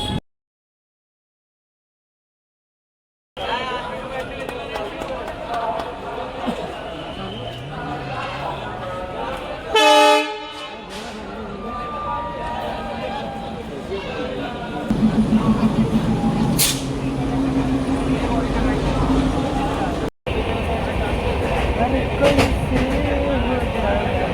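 A steam engine train in Varanasi rumbles along with rhythmic clattering and a brief whistle-like tone, while people talk nearby over the steady mechanical noise.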